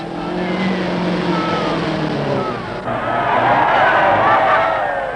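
Ford rally car bogged at the 1977 Southern Cross Rally, its engine revving and straining loudly in bursts, with crowd noise and a narrator talking over it.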